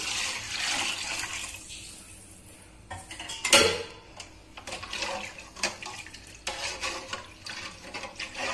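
Measured water poured into a prawn dum biryani pot, with a steady splashing pour, a sharp clink of metal against metal midway, then irregular sloshing and clattering close by.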